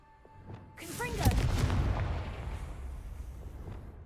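A fiery spell blast from the Confringo spell in a Hogwarts video game erupts in a deep, booming burst, then rumbles and crackles as it fades, with a voice just before it.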